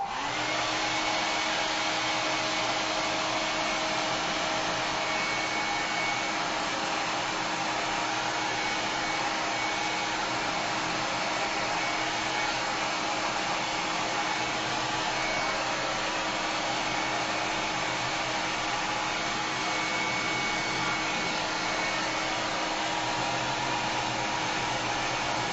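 A hair dryer runs steadily and loudly without pause, drying shaded decoration work, a continuous whooshing motor hum with no talk.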